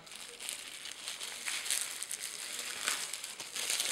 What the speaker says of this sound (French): Alors je vais déjà déballer son emballage